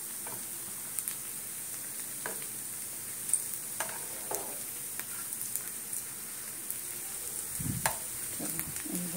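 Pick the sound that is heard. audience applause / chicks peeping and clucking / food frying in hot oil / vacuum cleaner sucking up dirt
food frying in hot oil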